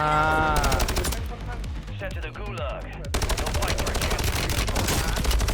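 Gunfire from the Warzone video game, rapid loud bursts of machine-gun-like shots close by, with a short lull and then another sustained volley, a voice speaking over it.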